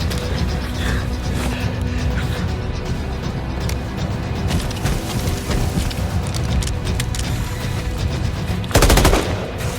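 Sustained machine gun fire rattling in rapid continuous bursts amid mechanical clatter, loud and close, with a harsher blast near the end and no speech.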